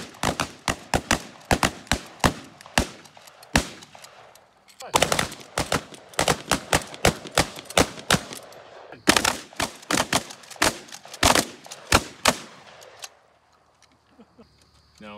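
Rapid bursts of gunfire from several guns aimed at cars, loud and close, with repeated volleys and short pauses, then quieter background sounds with a bit of talk at the end.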